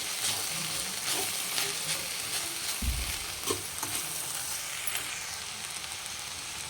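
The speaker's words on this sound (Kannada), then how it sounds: "ಇದೆಲ್ಲನೂ ಇವಾಗ ಒಂದ್ಸರಿ ಚೆನ್ನಾಗಿ ಮಿಕ್ಸ್ ಮಾಡ್ಕೊಳ್ತಾ ಇದ್ದೀನಿ" Salted shredded cabbage sizzles steadily as it is stirred in a hot pan, with a continuous frying hiss, scattered spatula scrapes and a few louder clacks partway through, close and alone with no talk.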